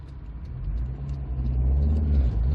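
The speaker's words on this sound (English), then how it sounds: "let's go around this roundabout and see how the handling is" A 1995 Rover 214 Si engine hums steadily and gradually builds in revs as the car drives around a roundabout, with a low rumble throughout and no talking.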